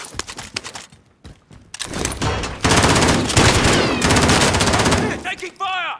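Loud gunfire from a PS5 video game: a scattering of single shots, then long sustained bursts of automatic fire, followed by a softer clattering sound near the end.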